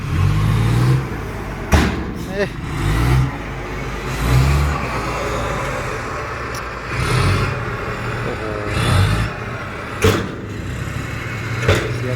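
A Hino Mega JO8E truck with an electric turbo and a modified exhaust revs its engine in short bursts over a steady low rumble, loud and close, with several sharp throttle blips spaced across the recording.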